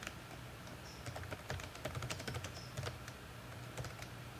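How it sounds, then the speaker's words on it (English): Fingers type text into a spreadsheet on a computer keyboard in a quick, irregular run of soft, close key clicks over a faint background hum. "I'm just going to put it in quotes and type in"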